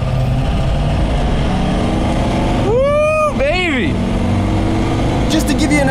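An 8,000-pound truck accelerates to merge onto a highway, a steady engine roar and road rumble heard from inside the cab, with a person talking over it and a rising whine in the middle.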